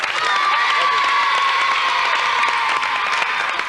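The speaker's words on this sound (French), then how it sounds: "Merci en tout cas et on peut les applaudir." A TV studio audience applauding and cheering, a dense, steady wash of clapping with scattered shouts from children and adults, loud and continuous throughout.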